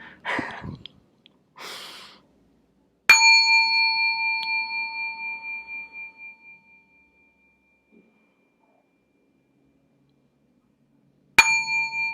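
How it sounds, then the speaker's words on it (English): Two clear bell chimes close a workshop circle, the first sustaining and slowly fading over several seconds, the second struck after a long silence, following a few soft breaths. "I'm going to close the circle with 2 bells."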